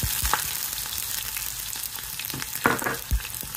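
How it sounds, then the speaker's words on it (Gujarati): Onion with ginger paste and asafoetida frying in a pan on low heat makes a faint, steady sizzle close by, broken by a few soft stirring clinks. "આપણે ડુંગળીને એકદમ ધીમા તાપે મીડિયમ સ્ટીમ થવા દઈશું."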